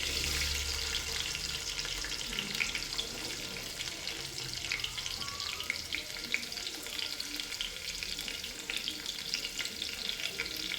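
Onion frying in a pan for bajra daliya khichdi, a steady close hiss and crackle of oil that runs unbroken throughout, with faint clinks now and then and no voices.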